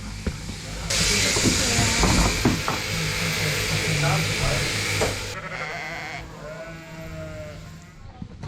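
Ewes bleat repeatedly in a farm pen ahead of shearing day, several overlapping calls near and far over a hissing, busy background with faint voices.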